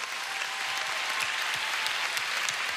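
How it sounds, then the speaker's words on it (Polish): An audience at a song festival's laureates' concert applauds the festival director and volunteers, a steady, dense round of clapping that holds at an even level from start to finish. "Dajmy jej i tym wszystkim wspaniałym wolontariuszom, którzy jej pomagają, ogromne brawa"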